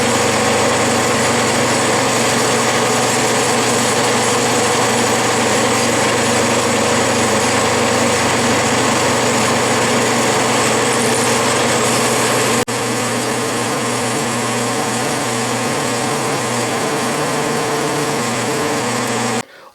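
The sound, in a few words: Bridgeport milling machine cutting a 45-degree angle on a clamp swivel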